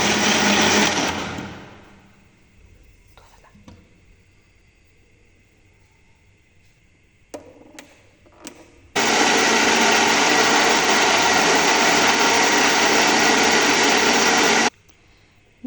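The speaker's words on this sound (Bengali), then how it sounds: "এগুলো এখন ব্লেন্ড" Blender whirring through fruit and water for homemade juice, a loud steady roar lasting about six seconds near the end after a quiet stretch with a few handling knocks.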